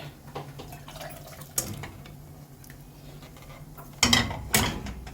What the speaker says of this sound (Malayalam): രണ്ട് മൂന്ന് പ്രാവശ്യം വെള്ളം ഒഴിച്ചിട്ട്